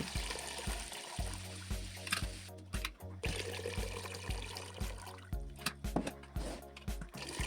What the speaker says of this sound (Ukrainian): Через 20 хвилин зливаю воду з банок в каструлю.